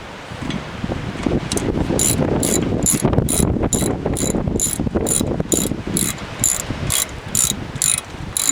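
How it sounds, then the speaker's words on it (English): A ratchet wrench snugs up the brake caliper bolts on a third-generation Dodge Ram, first as a dense grinding rattle, then as a run of crisp, evenly spaced ratcheting clicks, close and loud. "Just gonna snug them up with my wrench."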